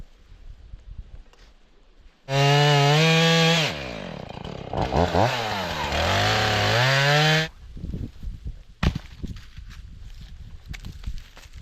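A chainsaw fells a tree that is rotting in the middle, running loud and close with a steady high whine for about five seconds, then revving and bogging in waves as it bites into the wood before cutting off, leaving quiet outdoor rustling.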